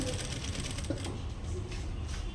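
A sewing machine runs steadily while stitching a blouse, a low continuous whirr with needle chatter under a soft, sporadic voice.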